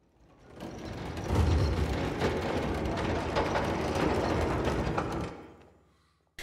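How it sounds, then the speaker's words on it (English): A trolley in the Somerville video game rolls along a rail with a rattling, clanking mechanical grind that swells in, holds steady for about four seconds, then fades to near silence before a short thump. "Now push the trolley forward."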